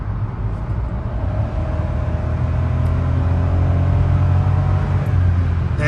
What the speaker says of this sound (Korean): 다음에 여기서 제가 차를 좀 벌린 다음에 좀 급가속으로 해볼게요